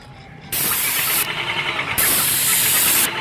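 An airless spray gun fitted with a 517 tip sprays in two loud, hissing bursts, each starting abruptly and holding steady, separated by a brief dip in intensity.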